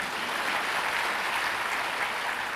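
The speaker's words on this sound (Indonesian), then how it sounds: "Boleh kalau mau tepuk tangan, boleh." A church congregation claps together in steady, dense applause that fills the room at an even, fairly loud level throughout.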